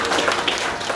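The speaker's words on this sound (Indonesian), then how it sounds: "Berikan tepuk tangan yang meriah buat Allah kita." Church congregation applauding during a Good Friday service, a brief dense burst of many hands clapping at once, loud and close.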